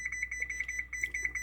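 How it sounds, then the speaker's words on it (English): Repeated short electronic beeps from an oven timer being set while baking bibingka, a quick steady series of bright chirps close to the listener with no talk. "I'm going to set my timer"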